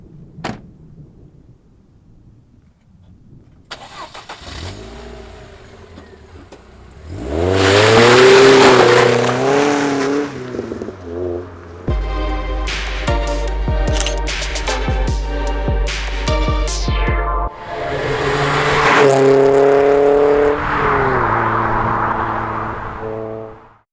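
A car door thuds shut, then the engine cranks and fires with a loud rev. It idles and ticks over, then revs up again and pulls away, with steady engine noise throughout and no talking.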